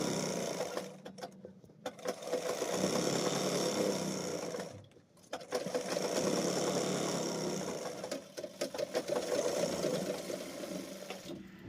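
A sewing machine stitches a center seam on a ladies' trouser, running in a few steady mechanical bursts separated by short pauses, fairly quiet and close.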